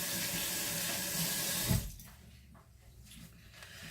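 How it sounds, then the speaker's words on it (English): A kitchen tap runs as hands are rinsed beneath it, a loud, close hiss of water that shuts off partway through, leaving faint dripping and a quiet room. "let me rinse my hands off real quick"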